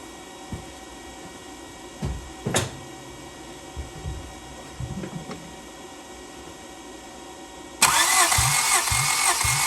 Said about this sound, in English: we got the battery charger pumping out maximum power so we can get the starter spinning it over the fastest